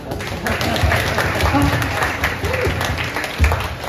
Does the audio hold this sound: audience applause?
yes